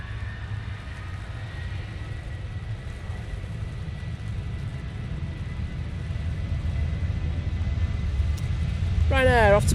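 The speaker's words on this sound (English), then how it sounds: "Ryanair off to Budapest." A Ryanair airliner departing Manchester Airport in wet, windy weather, its engines a steady broadband roar that builds slowly and grows louder toward the end.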